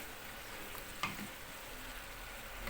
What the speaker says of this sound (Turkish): Şimdi bu kapya biberiyle yeşil biberini aldım. Biraz sotelensin.